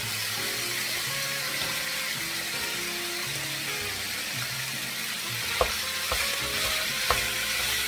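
Chopped ingredients frying down to brown in a pan for cheesy lasagna rolls, a steady close sizzle throughout with a few faint clinks of a utensil near the end, no voices.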